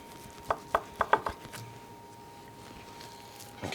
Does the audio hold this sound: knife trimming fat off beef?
yes